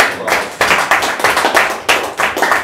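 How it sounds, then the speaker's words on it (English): A small quiz-night audience gives a prize winner a round of applause: close, lively hand clapping that rises in a few uneven waves across its short length, with no voices. "Give him a lovely round of applause."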